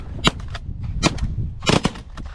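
Shotguns firing during a pigeon hunt outdoors: several sharp, loud blasts in quick succession, with a couple of close double shots spread over a few seconds, near and prominent.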